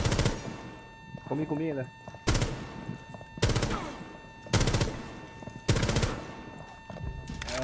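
Automatic gunfire in Rainbow Six Siege hits in five loud, sharp bursts at roughly regular intervals, with someone speaking French between them.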